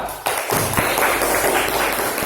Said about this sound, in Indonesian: Tepuk tangan untuk semua yang sudah menjawab